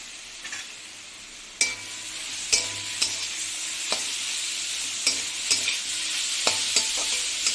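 Green chilies sizzle in a hot pan, stirred throughout, with a steady frying hiss broken by sharp scrapes and clacks of the spoon against the pan, close and loud, no voices.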